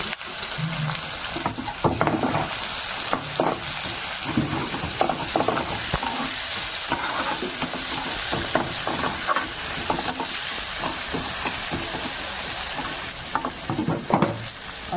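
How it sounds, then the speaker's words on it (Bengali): Sliced onions fry in hot oil with a pinch of salt for a fish curry, a steady close sizzle and hiss broken by repeated scrapes and clacks of stirring. "পেঁয়াজটা হচ্ছে এদিকে ভাজা"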